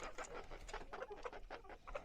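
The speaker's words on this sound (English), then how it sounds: "He's my other rooster." Several short clucking calls from a rooster, rising and falling in quick bursts against a steady outdoor background.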